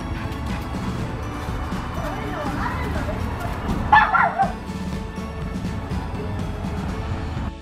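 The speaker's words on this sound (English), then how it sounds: "Alright, so we got the dogs over there." Several dogs outdoors under a threatening sky yip, bark and whimper in scattered bursts, with one louder flurry midway, while people talk over the noise.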